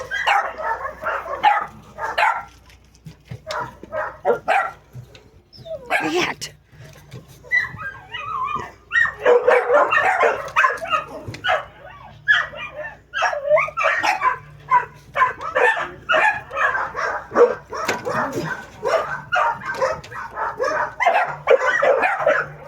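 Several dogs bark repeatedly in bursts, some yips and whimpers mixed in, fairly close, with brief quiet gaps between volleys.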